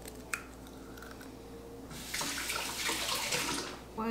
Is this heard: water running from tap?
yes